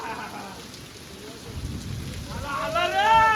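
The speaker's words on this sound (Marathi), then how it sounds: "आला आला रे पाऊस आला" Rain falls in a steady, moderately loud wash that swells slightly toward the end, with some tonal noise rising near the close.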